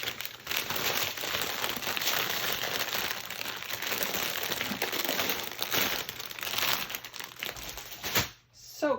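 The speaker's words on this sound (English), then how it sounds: "So crinkly." Stiff plastic packaging crinkles and crackles almost continuously during an unboxing of a sweet-tooth box, close and loud, with a brief quiet gap near the end before the rustling resumes.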